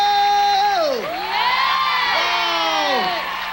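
A studio audience at a live variety show cheers loudly, with shrill whoops and gliding shouts that rise and fall over a sustained crowd roar, fairly near.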